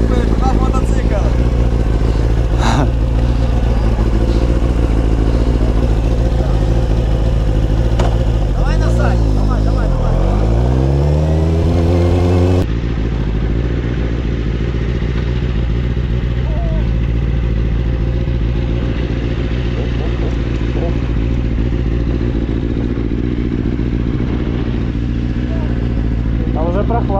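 A motorcycle engine runs steadily throughout, with a rising rev partway through, while people talk over the rumble.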